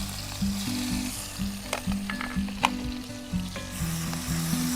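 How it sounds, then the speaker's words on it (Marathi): Ginger, garlic and chilli paste hits hot oil in a pan and sizzles steadily, with a few sharp crackles and pops over a low rhythmic hum in the background. "तेल तापले आता आले लसूण मिरचीची पेस्ट टाकून घेते।"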